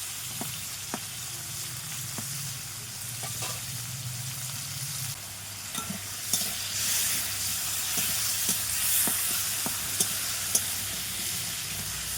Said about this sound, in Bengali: কড়াই গরম হয়ে গেছে এখন তেল দিয়ে দিচ্ছি মাছ ভাজার জন্য